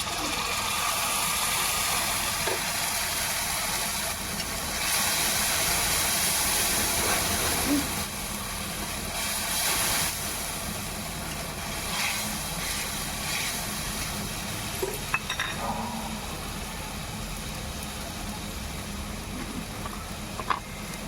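Ginger-garlic paste hits onions already frying in a home kitchen pan and sizzles, a steady, loud hiss that holds for about twenty seconds with small crackling spikes and no talking.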